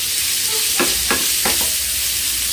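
Meat sizzles steadily in its own rendered fat in a pan, a loud even hiss with a few short scraping stirs partway through.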